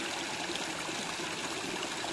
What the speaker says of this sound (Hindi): ये गंगा देखिए, ये पानी सारा रिस रहा है